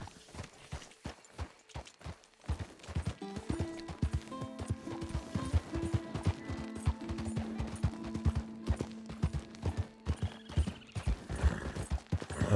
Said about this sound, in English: the horse just runs really fast